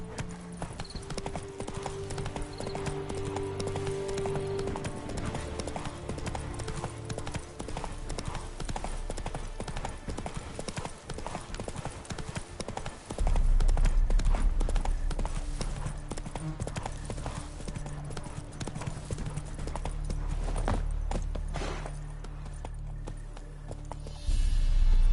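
Roach, Geralt's horse in The Witcher 3, trots with a rhythmic clip-clop of hooves, steady and close, while low music plays beneath and the pace shifts slightly midway.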